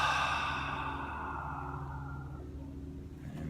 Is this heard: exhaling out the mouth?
yes